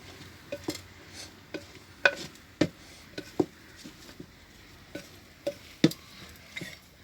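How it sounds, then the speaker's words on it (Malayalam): A ladle stirs a traditional home-cooked dish in a pot, making soft, irregular scraping and clinking strokes about once a second. The strokes are close and fairly quiet, with no talking. "തുടുപ്പെടുത്ത് നമ്മൾ ഇനി ഇളക്കണം"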